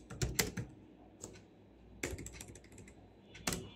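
Computer keyboard typing heard up close and quiet, short bursts of rapid key clicks separated by brief pauses, with no talking.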